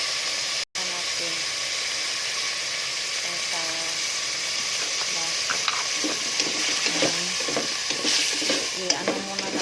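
Beef pieces hitting a hot pan set off a loud, steady broadband sizzle with stirring scrapes, continuing throughout after a brief dropout near the start while a voice talks intermittently over the frying.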